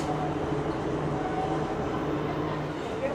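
TransPennine Express train slowing into Retford station, a steady low rumble and hum of the carriage with faint tonal whine, heard from inside the train with continuous even level.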